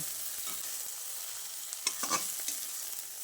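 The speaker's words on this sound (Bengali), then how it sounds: "এবার এই পর্যায়ে গ্যাসের ফ্লেমটা বন্ধ করে একটা পাত্রে তুলে নিচ্ছি" Fried tomato, ginger, garlic and chilli masala is scooped from the pan into a bowl as a faint leftover sizzle fades, broken by a few quick spoon scrapes and knocks.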